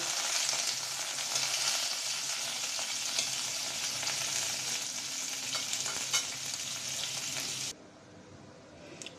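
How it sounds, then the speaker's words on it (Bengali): Flat beans frying in oil in a pan, a dense, steady close sizzle that carries on evenly and then cuts off abruptly near the end. "এবার কাহই সিমগুলোও দিয়ে দিলাম, একটু তেলের করে ভেজে নেব।"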